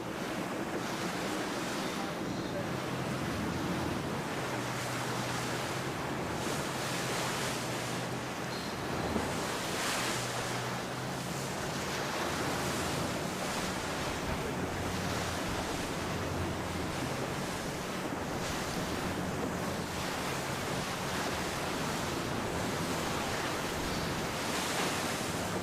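Strong gusty wind roars over waves and surf during a Galicia 52 Super Series sailing race, a continuous broadband rush with rising and falling gusts and no voices.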